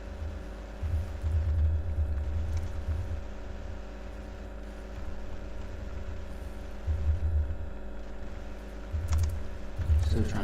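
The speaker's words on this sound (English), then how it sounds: "Still trying to get used to this keyboard on this laptop." Fingers tap on a laptop keyboard in irregular bursts of soft clicks over a low, constant background rumble, with no clear speech.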